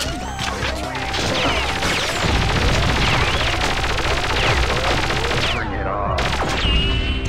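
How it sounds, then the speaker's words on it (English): Rapid gunfire rattles through a Perfect Dark firefight, loud, continuous automatic shots mixed with crashes and impacts over steady game sound. "Why's he gotta keep shooting?"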